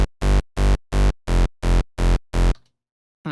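Hardcore rave bass patch made in Harmor and mixed mostly from oscillator A with a little of oscillator B, playing eight rhythmic, evenly spaced gritty stabs, loud and close with no voices, then cutting to silence.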